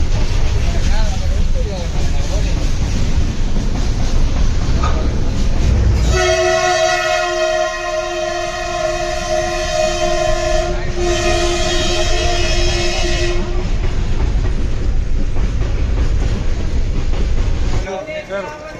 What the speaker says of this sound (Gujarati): તમે જોઈ શકો છો આપણી ટ્રેન અત્યારે ઊભી છે